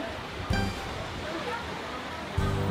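Ocean surf washes steadily at a stone seaside pavilion reached by a long stone bridge on the Sokcho coast, a continuous broad roar with two heavier wave surges breaking near the start and end.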